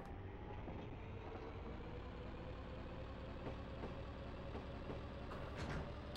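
Steady rumble of a light streetcar running in the Densha de GO! professional train game, a continuous rolling drone with faint rattles and a brief brighter squeal near the end, no talk.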